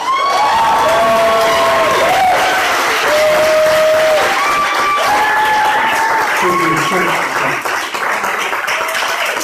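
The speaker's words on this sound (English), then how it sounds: "they should get 5 rounds of applause because they're sponsoring 5 apprentices" A crowd at a software engineering apprenticeship launch celebration applauds and cheers for sponsors, a dense, continuous wash of clapping with whoops and raised voices riding over it.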